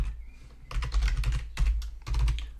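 Quick clusters of key taps on a computer keyboard as a link is typed in, close and crisp with short pauses between bursts.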